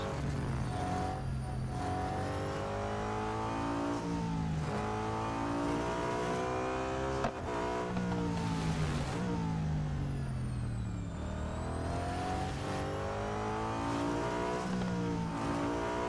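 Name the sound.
racing car engines in Real Racing 3 autocross video game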